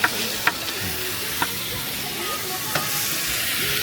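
Onion sizzling and hissing steadily in a pan on a campsite stove, close and continuous, with a few sharp clinks of a utensil against the pan.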